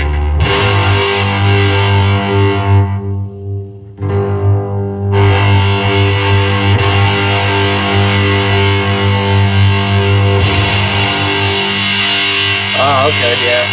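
An electric guitar through a 1970 Electro-Harmonix Triangle Big Muff V1 fuzz pedal rings out thick, chewy sustained chords. There is a brief gap early on, then the fuzz continues loud and close to the end.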